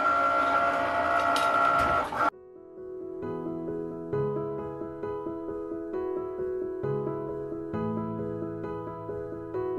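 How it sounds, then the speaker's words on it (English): A Paper Studio cutting machine slices a vinyl star, a run of stepped motor whirs and tonal buzzes pulsing in a rapid rhythm after a brief burst of louder handling noise, close and steady with no talk. "we're going to load our machine and we're going to let it cut out our star"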